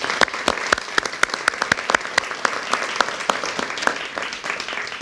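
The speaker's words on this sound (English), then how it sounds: "Can we give them a round of applause for the stamps?" An audience at a NASA press event gives a round of applause. Individual sharp claps stand out in a brisk, fairly regular rhythm over a softer bed of clapping, steady for several seconds.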